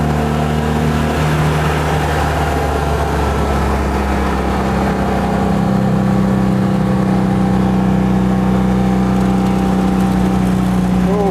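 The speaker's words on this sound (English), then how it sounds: "Oh, this hill's biting hard. That's second gear we're in at the moment. That's full throttle." A Citroën 2CV's small engine labours at full throttle in second gear up a steep hill, a steady loud drone filling the whole stretch without letup.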